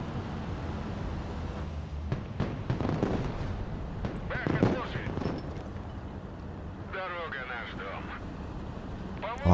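Gunfire and explosions strike an anti-aircraft system in the modern military strategy game Broken Arrow, with dense bursts of shots and rumbling blasts over a steady battle din, plus a brief warbling alarm-like tone near the end.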